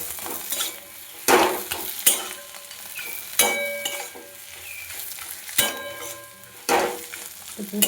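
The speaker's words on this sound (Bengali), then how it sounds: "লঙ্কা সামান্য দেবো ভালোভাবে মিশিয়ে নিয়ে গ্যাসের ফ্লেমটা অফ করে দেবো" Chili being stirred into a sizzling mixture in a pan over a gas flame, with several loud scraping strokes of a utensil against the pan over a steady frying hiss.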